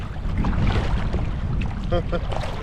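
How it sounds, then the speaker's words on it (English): Kayak paddle strokes dip into lake water, switching between high-angle power strokes and low-angle cruising strokes. Wind buffets the microphone, and a voice is faintly audible underneath. "You'll notice I'm switching back and forth between a real high angle stroke and then a low angle cruising stroke"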